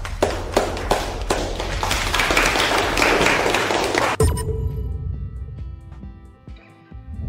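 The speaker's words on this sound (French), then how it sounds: "Applaudissez, tout le monde." A burst of clapping from a small crowd for about four seconds, then it stops abruptly, leaving quiet scattered taps and room noise.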